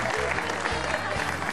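A comedy show audience claps steadily, a dense patter of many hands at moderate volume filling the whole moment.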